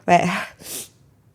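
A single sharp sneeze bursts out close by, followed by a short breathy hiss as the air trails off.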